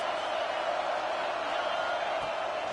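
A stadium crowd at a college football game roars steadily on a big third down, a dense continuous wash of cheering with no breaks, distant and uniform.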